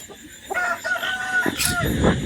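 A rooster crows in a loud, drawn-out call with a harsh, wavering pitch, close by, among poultry kept for sale at a farm, with some background noise.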